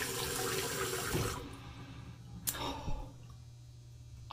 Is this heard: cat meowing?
no